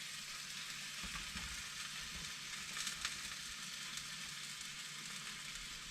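Red onion sizzles in a frying pan with lamb fat, giving a soft, even crackle and hiss that runs steadily at a low level, close by, with a few faint pops and no talking.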